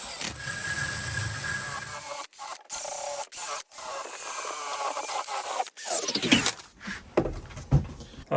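Steady, scratchy scrubbing works rust off the tops of stainless steel bolts, a continuous close abrasive rasp broken by a few short pauses.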